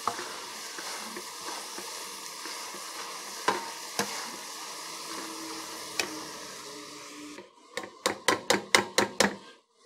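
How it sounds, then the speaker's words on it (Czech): Cabbage being stirred in a pot, with a soft scraping and rustling that runs steadily, a few sharp knocks, and then a quick run of rhythmic spoon taps against the rim at the end. "Promíchám. Určitě by bylo lepší to dělat v kastrolu než v hrnci"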